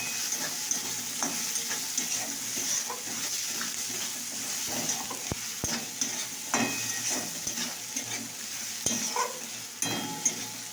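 Green peas fry in a pan with a steady close sizzle, while a spoon stirs them with frequent scraping clicks and taps against the pan, no voices.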